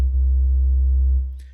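One smooth, pure sine-wave tone from the second oscillator of a Pittsburgh Modular Lifeforms SV-1 Blackbox synthesizer, held steady and fairly loud for over a second before tapering off.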